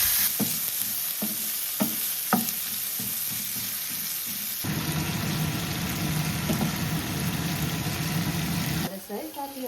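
Onion and tomato fry in a pan for Maggi noodle soup. A few scraping stirs come first, then a loud, continuous sizzle swells and carries on, with faint voices in the background.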